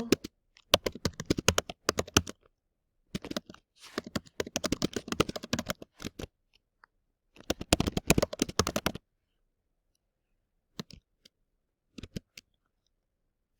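Fast typing on a computer keyboard, heard in several bursts of rapid clicking separated by pauses, close and fairly quiet, with a few isolated keystrokes at the end.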